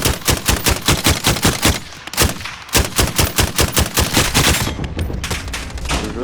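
A RAAL MG light machine gun in Call of Duty Modern Warfare firing in sharp, rapid, evenly spaced bursts, loud and close, with a brief pause midway before the shots resume.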